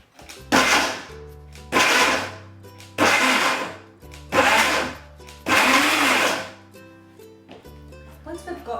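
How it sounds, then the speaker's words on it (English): Countertop blender pulsing basic filling ingredients under its lid, five loud whirring bursts of about a second each separated by short pauses, with a motor hum lingering between them. "So basic ingredients in the blender, lid goes on and we pulse to start."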